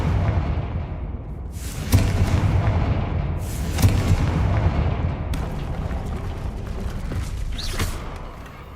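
Confringo fire spells blasting in the video game Hogwarts Legacy: three loud, booming bursts, each trailing off in crackling decay, spaced a couple of seconds apart over a steady rumbling background.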